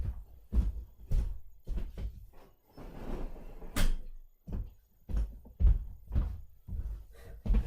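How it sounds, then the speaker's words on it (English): A series of knocks, thuds and sliding bumps, like a window being pulled shut, close by with a louder scrape midway. "just close the window there"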